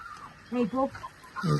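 Hens and a rooster in a coop give a few short clucks, close and moderately loud, in quick bursts over quiet background.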